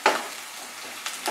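Chopped onions frying in oil in a pan, a soft steady sizzle with a few brief louder bursts as they are stirred.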